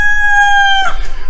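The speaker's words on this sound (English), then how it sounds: "We have got too many roosters." A rooster gives one loud, close crow with a long, steady call that breaks off into a rough, noisy ending, with no voices alongside.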